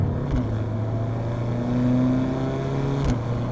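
A Mini Clubman's turbocharged engine holds raised revs after the automatic gearbox downshifts in sport mode, a steady, close droning hum with a slight rise and fall in pitch from inside the car.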